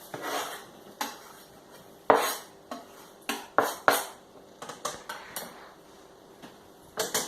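A cooking pot set onto a stove while making red pepper and tomato soup: a series of close clanks and knocks of metal cookware, irregular and sharp, some in quick pairs, with no talk.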